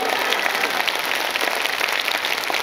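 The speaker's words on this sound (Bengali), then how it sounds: "জোরে একবার ঈশ্বরের জন্য করতালি দিন।" Steady, dense clapping from a church congregation during a Bengali Christian sermon, sustained and loud for the whole stretch with no talk over it.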